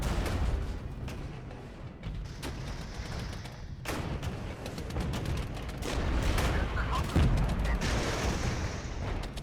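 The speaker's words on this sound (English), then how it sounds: "Just Shilka firing on them." Shilka anti-aircraft gun firing in the Cold War battle game Regiments, sharp repeated bursts of gunfire over a dense, rumbling battlefield din with thuds and explosions throughout.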